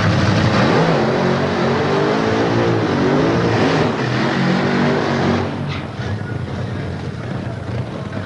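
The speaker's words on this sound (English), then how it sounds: "Our first pair in this clash of titans here on the bank holiday Monday complete their first burnouts there" Drag racing cars at Santa Pod do burnouts on a bank holiday Monday, a dense, loud engine roar with wavering revving tones that eases off toward the end.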